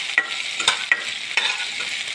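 Green chilies and tomato frying in oil, a steady near sizzle with quick rhythmic scrapes of a spatula against the pan.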